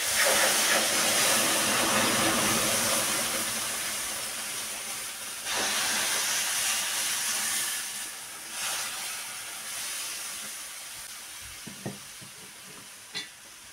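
Boiled water poured into ghee-roasted, reddish semolina for village-style sheera sends up a loud, broad steaming hiss that starts at full strength and slowly fades, with a few brief later surges and small pops.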